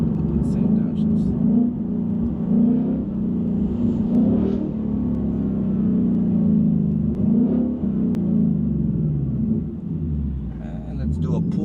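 A 2024 Mustang GT with a Corsa Extreme valved exhaust cruises at speed, its loud, steady engine drone dipping and swelling as it downshifts, with a voice talking over it.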